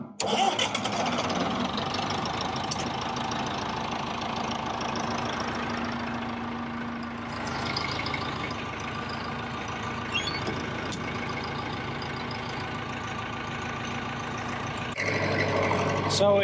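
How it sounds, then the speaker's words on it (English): A tractor engine cranks over and fires, then settles into a steady mid-pitched idle that runs loud and close for most of the stretch, with a brief change in tone near the end. "this tractor has an interesting starter"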